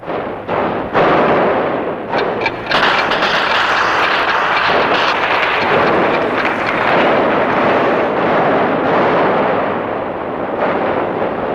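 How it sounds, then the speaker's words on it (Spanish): Intense ground bombardment with heavy gunfire during a combat assault, a dense, continuous roar of blasts and shots filling the whole stretch with sharp bursts layered on top, loud and close. "Se había hecho muy intenso el bombardeo terrestre. Había mucho disparo."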